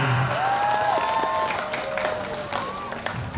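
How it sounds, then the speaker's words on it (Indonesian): Applause from an audience at a school nutrition event, a steady patter of clapping mixed with some cheering, while a loudspeaker voice and a sustained electronic tone sound over it. "Sekali lagi tepuk tangan untuk SMA Negeri 4 Tanjung Pinang."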